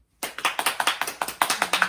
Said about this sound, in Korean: 감사와 영광의 박수를 올려드릴게요